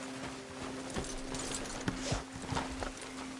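Horse hooves clip-clop at a steady walking pace in the Red Dead Redemption 2 game world, moderately close, over a constant low hum and light ambient background, with no talking.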